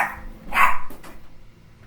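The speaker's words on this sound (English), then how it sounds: "My dog is absolutely insane." A dog barks once or twice at close range, a sharp burst in the middle of an otherwise quiet indoor moment.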